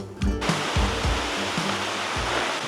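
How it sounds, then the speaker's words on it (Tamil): Kiliyur waterfall in Yercaud, running with low water, gives a steady close roar of falling water with broadband hiss. Soft low thumps from handling or wind recur beneath it, and no one talks. "நாங்கள் ஒரு வழியாக கிளியூர் வாட்டர் ஃபால்ஸ் ரீச் பண்ணியாச்சு."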